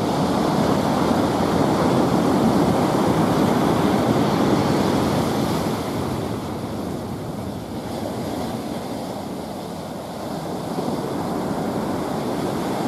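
Steady ocean surf rolls and crashes at Dockweiler Beach in Los Angeles, a continuous broad wash of breaking waves with wind buffeting the microphone. It eases slightly midway and swells again, with no voices.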